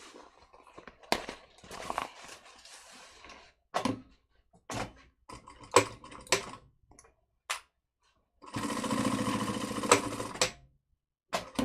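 A sewing machine stitches the bottom seam of a bag in one steady whirring run of about two seconds, close and moderately loud, after scattered clicks and taps of fabric and tool handling.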